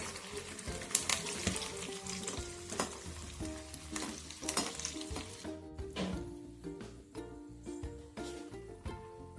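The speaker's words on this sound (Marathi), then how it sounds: "लसूण एक दोन ते तीन मिनटे आपण याला तळून घेणार आहोत" Garlic and green chillies fry in a small wok for chivda, a busy continuous sizzle and crackle with clinks of stirring, fairly close and steady throughout, no talking.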